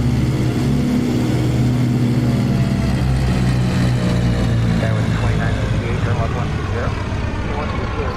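Cessna 414 AW Chancellor twin-engine aircraft in a flight simulator, with a loud, constant droning engine hum and a slowly shifting pitch, while someone talks over it throughout.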